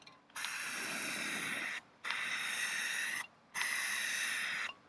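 Spray paint hisses from an aerosol can onto wood in three long, even bursts separated by short silences, close and fairly loud.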